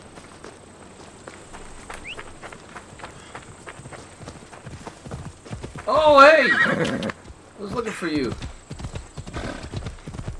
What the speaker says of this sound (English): the horse is so easy to control in this game